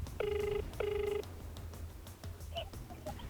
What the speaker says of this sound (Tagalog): Sinubukan ni Alexis na tawagan ang nakalagay ditong numero.